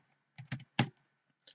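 A short burst of typing on a computer keyboard, a few quick close clacks in two clusters, then a faint pair of taps, in a quiet room with no talking.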